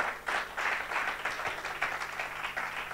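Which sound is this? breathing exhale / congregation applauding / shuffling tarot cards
congregation applauding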